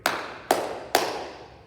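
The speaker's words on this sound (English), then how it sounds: "All right, 3 claps on me." An audience claps three times in unison, sharp evenly spaced claps about half a second apart in an indoor gathering, each ringing briefly before the next.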